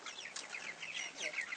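Meat-bird chickens on a small farm cluck and chirp in a soft, continuous chatter of overlapping calls, faint and somewhat distant.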